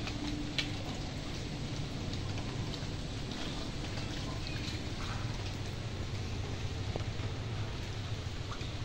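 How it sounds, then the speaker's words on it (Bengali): Steady rain pours down outdoors under a stormy sky in a flooded area, a dense, even hiss with faint scattered drips, continuous and moderately distant, with no talking. "আর ঝিঝি ঝিঝি করে বৃষ্টি হয়েই চলেছে।"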